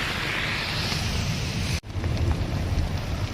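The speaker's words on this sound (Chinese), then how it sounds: "外面下着大雨啊" Dense, steady roar of heavy rain with strong gusting wind on a hilltop, heard from inside a thatched hut, briefly cut off by a sudden gap before the downpour resumes just as strongly.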